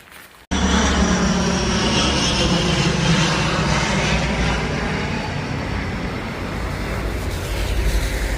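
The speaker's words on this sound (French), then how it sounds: "après avoir regardé les avions" Aircraft engines roar loudly and continuously overhead near Toulouse, a broad sustained rumble that starts abruptly and slowly eases a little over several seconds.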